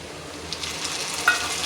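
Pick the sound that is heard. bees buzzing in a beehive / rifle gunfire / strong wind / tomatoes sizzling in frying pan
tomatoes sizzling in frying pan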